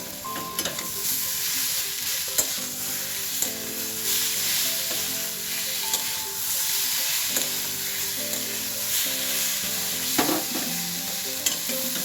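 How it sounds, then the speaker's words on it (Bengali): Tomato paste frying and being stirred in a pan for a yam and prawn curry, a steady bright sizzle with repeated scraping strokes and utensil knocks, close and alone without talk. "দিলাম একটু টমেটো বাটা"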